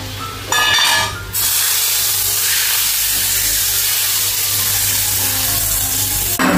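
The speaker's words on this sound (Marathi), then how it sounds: "आपली फोडणी झालेली आहे, आपण ह्या आमटीवर ओतूया।" A hot spice tempering with asafoetida and red chilli is poured onto masoor lentil curry, giving a loud, sharp burst of sizzling hiss that settles into a steady, softer sizzle.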